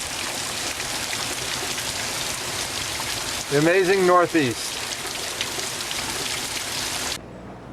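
Steady rain falls outdoors, a continuous broadband hiss that holds evenly throughout, briefly under a man's short spoken phrase in the middle, then cuts off at the end.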